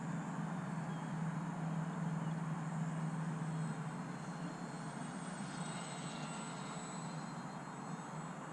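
Small UMX Turbo Timber Evolution RC airplane coming in low and slow to land with flaps down, its faint electric motor a steady distant drone over a constant wind-like hiss, no talk.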